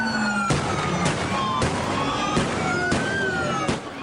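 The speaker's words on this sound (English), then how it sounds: "federal agents hurling flashbangs into the air, trying to scatter protesters during an ICE raid" Flashbangs thrown into the air by federal agents to scatter protesters at an ICE raid in downtown Los Angeles: five or six sharp, loud bangs at roughly even intervals, each ringing over a constant wash of crowd noise and sirens.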